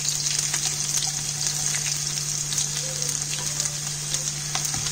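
Chopped shallots sizzling in hot oil after mustard seeds have popped, a steady close-up crackle with a low constant hum underneath for the whole stretch, no talking.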